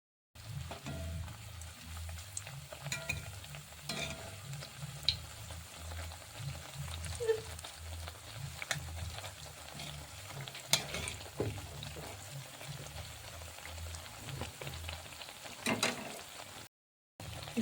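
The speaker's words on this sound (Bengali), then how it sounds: "কড়াই তেল দিয়ে দিচ্ছি, এবারে ব্রেডগুলো দিয়ে ভেজে নিব" Slices of bread fry in hot oil in a wok, giving a steady close crackling sizzle for the whole stretch, with occasional light scrapes and clicks of a utensil against the pan and no voices.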